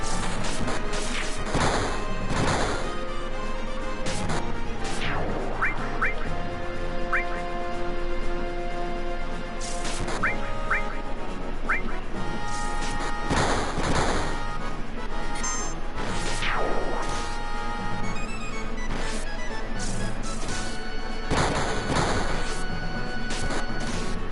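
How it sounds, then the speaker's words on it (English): Birds being shot in the classic Final Fantasy 7 game: a loud, busy run of repeated smacking impacts and swishing whooshes at irregular intervals, layered over a continuous game soundtrack. "It doesn't matter which bird you shoot, just shoot the bird."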